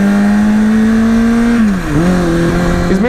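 A 2005 Kawasaki ZX6R 636 sport motorcycle engine holds a steady, loud rev, then drops and climbs again in pitch, running close and continuous with no talking.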